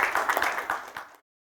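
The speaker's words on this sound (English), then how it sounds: "Please welcome Mr. Salunke with a great round of applause." Audience applause welcoming a speaker at an industry and SME summit: a short burst of clapping from a seated crowd, close and lively, cutting off abruptly after about a second.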